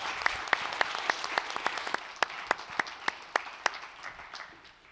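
Audience applause at a beer pitch competition finals, a room of moderate clapping with sharp individual claps standing out, steady and then slowly fading.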